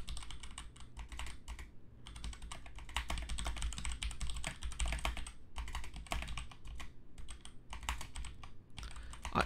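Rapid, continuous clatter of keys on a computer keyboard, close up, with brief pauses between bursts of typing.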